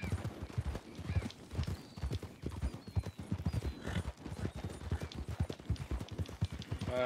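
Horse hooves clip-clop in a video game, a quick steady run of hoofbeats close by and fairly quiet, with a brief whinny and some talk in the background.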